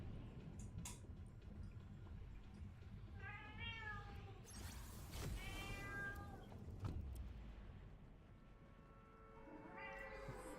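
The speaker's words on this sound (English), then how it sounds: "if you can hear the cat meowing in the background" Indoor cat meowing in the background during a late-night livestream, several drawn-out meows spread across a few seconds, faint and distant under room noise.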